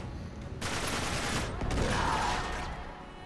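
Gunfire in the video game Uncharted 3, including sniper shots, heard as a burst of loud rapid shots and blasts that swell midway and taper off.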